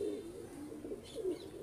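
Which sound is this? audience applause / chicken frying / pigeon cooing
pigeon cooing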